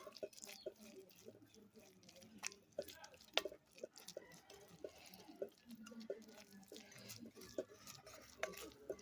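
Jamaican white grater cake mixture being stirred by hand, giving soft, irregular wet scraping and light clinks against the bowl, quiet and close, with a voice speaking intermittently over it.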